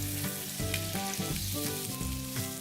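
Half a stick of butter melting with olive oil in a hot skillet gives a steady, close sizzle, with a sustained melodic tonal layer running over it throughout.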